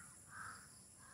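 A single crow caws once in the distance over a quiet outdoor background.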